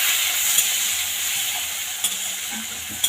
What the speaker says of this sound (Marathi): जो हा कच्चा टोमॅटो बारीक कापून चिरून घेतला होता तो टाकून घेऊया तो परतून घेऊया दोन मिनिट